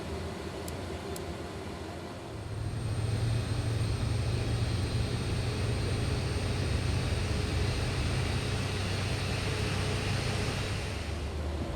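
An Embraer E-Jet (E170/E175) airliner engine in Microsoft Flight Simulator spools up after a couple of seconds, settling into a loud steady roar and whine that continues to the end.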